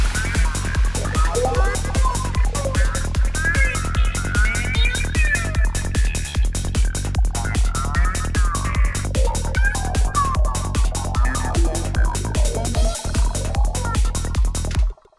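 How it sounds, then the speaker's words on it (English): The Tritium 2.0 synth device sends out a groovy squelching line as an LFO sweeps its filter cutoff, riding over a steady pulsing rhythm, loud and continuous before stopping abruptly at the end, with no voices. "We just got like a groovy squelch going on."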